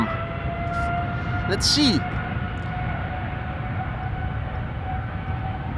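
A departing airliner at Amsterdam Schiphol Airport produces a loud, sustained engine roar with tonal whine, dominating the scene while a person briefly speaks.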